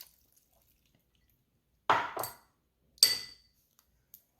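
Lemon juice added into a vegan Alfredo sauce mixture, two short close splashy pours separated by a brief pause, then a faint drip in an otherwise quiet kitchen.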